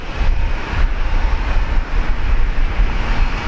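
A Philippine Airlines jet powers up for takeoff on runway 19 left at Brisbane Airport, a broad, steady engine roar heard from a distance without speech.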